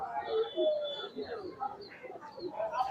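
Pigeons at a large pigeon market in Khalishpur, Khulna give soft coos and murmurs close by, with market chatter and voices mixed in throughout.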